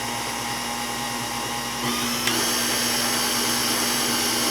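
An electric mixer whirs steadily through pumpkin roll batter, a continuous close motor drone that grows slightly louder partway through.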